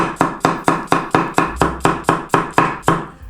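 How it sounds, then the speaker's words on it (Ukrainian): A knife slicing an onion into rings on a cutting board, about a dozen evenly spaced sharp chops in a steady rhythm, close and crisp with no talking. "Беремо цибулю, нарізаємо кільцями."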